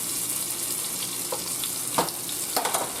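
Rabbit meat frying in a hot pan of olive oil, a loud continuous sizzle close by with a few sharper crackles and pops near the end.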